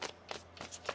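Tarot cards being shuffled by hand in three or four quick riffling bursts with short pauses between, close and fairly quiet with a faint steady hum underneath.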